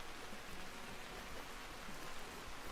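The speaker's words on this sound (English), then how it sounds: "Let's hope we get out of this rain." Steady rain in the survival video game Vintage Story, a dense, even hiss of downpour falling on surfaces that stays constant throughout with no talking.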